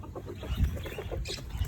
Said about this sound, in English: there's some ducks here, some chickens managed to get in here